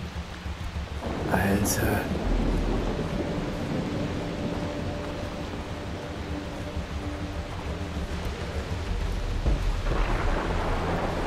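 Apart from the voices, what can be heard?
rain and thunderstorm in video game Far Cry 3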